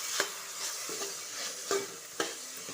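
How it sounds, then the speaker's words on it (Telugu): Green peas frying in oil for a vegetable pulao give a soft, steady sizzle with a few sharp utensil scrapes and taps as they are stirred. No one speaks. "అలానే చూడండి ఫ్రెండ్స్, పచ్చి బఠానీ కూడా వేసాను. ఇవైతే బాగా ఫ్రై అవ్వనివ్వాలి."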